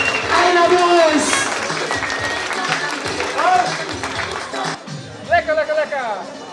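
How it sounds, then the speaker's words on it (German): A crowd applauds and cheers the finalists of a chili eating contest at a blues venue in Rhede, clapping spread under excited voices and a loud announcer, with chatter continuing as it dies down. "Ein Applaus!"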